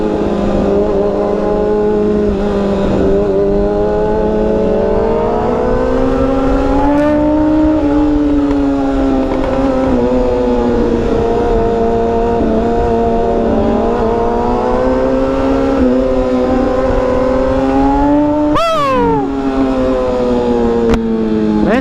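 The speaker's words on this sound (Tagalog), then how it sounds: "Ingay talaga ng motor nito ah." A BMW S1000RR sport motorcycle drones loudly while being ridden at night in Dagupan, Pangasinan, a steady close engine note with slow rises and falls in revs and a brief sharp whine near the end.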